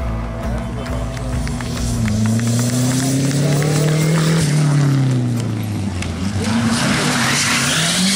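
A racing car at the Revival Valpantena historic hill-climb event roars past with a rising and falling engine note and squealing tires, loud and close throughout, with spectators' voices faintly mixed in.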